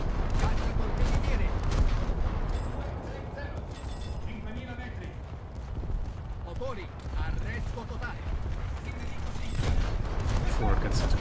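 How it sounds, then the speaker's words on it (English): Warship guns firing on the destroyer Yugumo in a naval combat video game, repeated sharp shots and mechanical clanks in clusters, with a voice talking throughout. "I'm going to choose to shoot at the Yugumo first."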